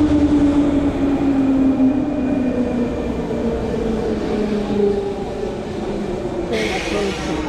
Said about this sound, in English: Train approaching. Train approaching.